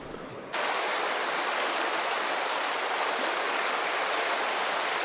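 A mountain trout stream in Virginia rushes steadily and fairly close, a constant full hiss of flowing water that starts abruptly and continues alone without voices.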